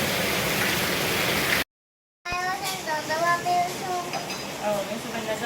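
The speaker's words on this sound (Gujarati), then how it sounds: "વરસાદ તો જો સવારનો રહેવાનું નામ જ નથી" Steady heavy rain pours down outdoors, a dense hiss that cuts out briefly, then returns under a voice and other talk.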